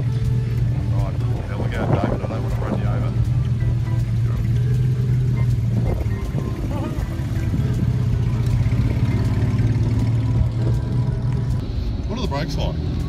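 A Jaguar XK150 with four-speed gearbox driving while the driver double-clutches, steady mid-pitched engine drone throughout, close and fairly loud, with people talking over it.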